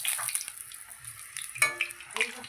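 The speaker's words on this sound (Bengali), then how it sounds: "সুন্দর সুন্দর করে তেলে ভাজা হচ্ছে" Puris frying in hot oil give a faint, steady sizzle throughout, with a couple of brief clinks of utensils and a short voice partway through.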